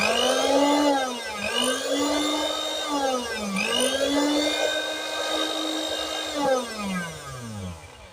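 Repaired electric mixer grinder switched on and running: a loud high-pitched motor whine that wavers in pitch through the run and winds down at the end.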